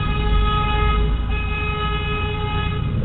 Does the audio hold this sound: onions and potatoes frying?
no